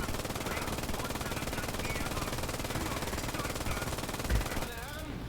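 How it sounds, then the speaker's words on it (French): Rapid, continuous heavy gunfire from a 75 mm cannon in a video game with a modded sound, a dense steady barrage with one louder boom near the end before it cuts off. "même le son du canon 75 mm a été changé"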